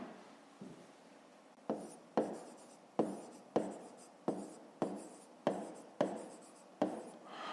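Handwriting on paper in a maths lesson: a run of about a dozen quick, evenly spaced pen strokes, close and crisp, with no voices.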